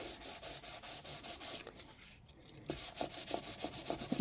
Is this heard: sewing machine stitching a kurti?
no